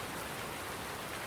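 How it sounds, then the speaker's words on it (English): Steady rain falling in the farming video game Farming Simulator 19, a soft, even hiss of downpour with no pauses, faint and continuous. "It's day one of summer. It's raining."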